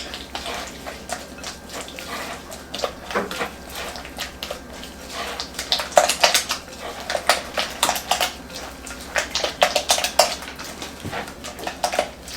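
A spoon scrapes and clinks in a bowl as potato salad is mixed with sweet yellow onions, giving irregular clattering bursts that grow busier midway and continue to the end.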